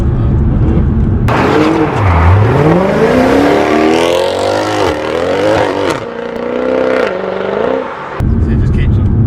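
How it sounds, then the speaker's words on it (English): A tuned Mercedes C63 AMG with an automatic gearbox howls through high revs as it brakes hard and drops down the gears, the engine note swooping up and down in loud, close bursts while someone talks excitedly over it. "if you brake hard, it just keeps on dropping down, gets really high in the revs"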